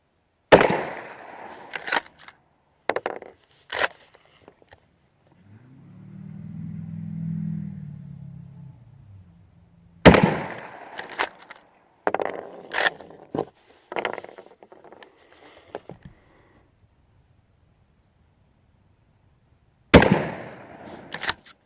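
A shotgun fires homemade round ball slugs from reloaded shells: three loud blasts about ten seconds apart, each followed by quick sharp echoes or clanks, with a low rumble between shots.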